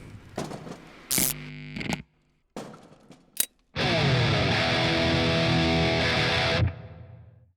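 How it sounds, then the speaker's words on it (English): Bursts of distorted electric guitar, recreating a famous recorded guitar tone, come in short choppy stabs separated by brief silences, then one loud sustained chord rings for about three seconds. "recreating one of the best recorded guitar tones of all time"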